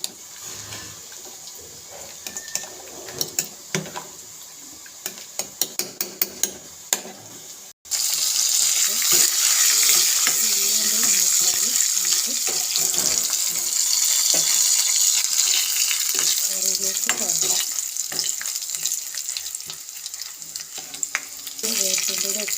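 Shallots and curry leaves hit hot oil for a mutton curry tempering, bursting into a loud, steady, crackling sizzle after a few scattered clicks and clatters, then hissing continuously with occasional utensil knocks.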